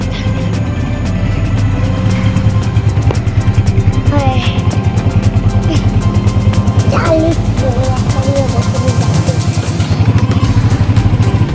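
A motorcycle engine idles and revs close by with a steady rhythmic putter, slightly rising in pitch in places, as a family heads out for school; voices speak briefly over it.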